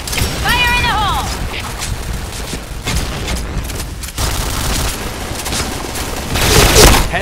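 A grenade explosion and bursts of gunfire in a shooter game, with rapid volleys and booms layered over chirping game effects, growing loudest toward the end.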